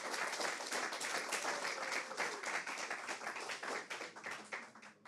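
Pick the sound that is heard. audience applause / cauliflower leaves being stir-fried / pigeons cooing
audience applause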